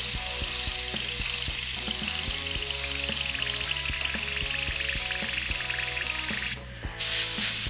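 An airbrush hisses loudly and steadily while bubbling paint and reducer back through its color cup, with faint rhythmic clicking underneath, then a brief drop before the hiss returns even louder.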